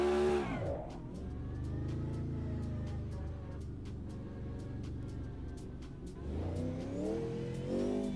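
A race car engine in the Automobilista 2 sim revs hard, climbs in pitch, holds a droning mid-range tone, then winds up again, with sharp ticking clicks scattered over the engine note and no voices.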